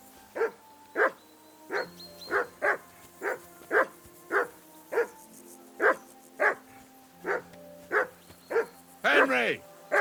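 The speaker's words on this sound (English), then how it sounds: "Call off that damn dog before he wolfs down the last of our mates." A dog barks repeatedly in Kingdom Come: Deliverance II, a steady run of sharp, loud barks roughly every half second, ending in a whining yelp, alongside game music and voices.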